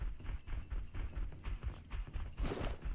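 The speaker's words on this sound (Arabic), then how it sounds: "ورانا ورانا حصان" Horse hooves clip-clop in PUBG Mobile, a steady run of close hoofbeats across the whole moment, fairly quiet, with no voices over them.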